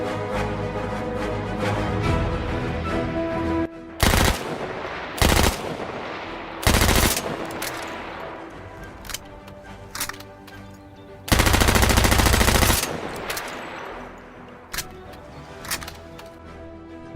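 Thompson submachine gun in Battlefield 1 firing loud rapid automatic bursts of varying length, several short bursts and one longer sustained burst, set over steady background music with no talking.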